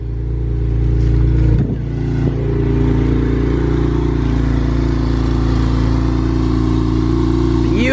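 A Porsche 911 with about 40,000 miles runs loud and close at a steady idle rumble, with a quick throttle blip early on before it settles into an even, continuous drone.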